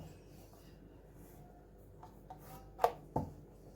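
A knife cutting through kanavle dough down the middle, giving two short, quiet chopping taps against a board near the end of an otherwise calm, faint stretch.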